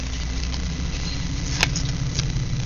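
A neighbor's loud truck pulls away two houses over, its low engine rumble steady and moderately loud throughout with a brief higher clink partway through, no talking.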